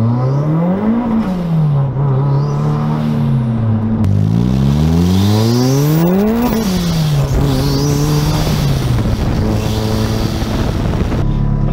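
A drag car launches hard on cold tires that are not aired down, its engine revving loudly up and down in repeated sweeping surges close to the microphone.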